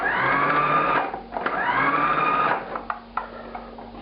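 A food processor whirs in short pulses through empanada pastry dough made with yeast and milk, two loud motor bursts followed by the whine winding down and a few light knocks, near and alone.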